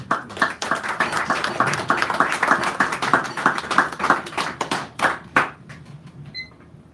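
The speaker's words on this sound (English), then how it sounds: "Give him a nice round of applause." Audience at a San Francisco cafe poetry hour applauds a poet, a dense steady clatter of many hands clapping that thins and fades out near the end.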